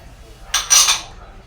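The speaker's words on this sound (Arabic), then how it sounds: "وهغسل المواعين" Cutlery and pots clatter briefly during dishwashing in a home kitchen, a short bright burst of metallic clinks lasting about half a second, close and fairly loud against near silence.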